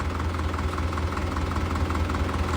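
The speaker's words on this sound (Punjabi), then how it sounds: "ਟਰੈਕਟਰ ਆਉਂਦਾ ਵਾ ਇੱਧਰ ਆ ਗਿਆ" A steady, loud engine rumble with a low throbbing drone, like a tractor idling close by, with no talking.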